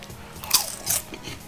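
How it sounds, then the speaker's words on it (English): A bite into crunchy homemade caramel corn seasoned with salt and cayenne, two sharp close crunches half a second apart followed by faint chewing, with no talk. "you hear that crunch?"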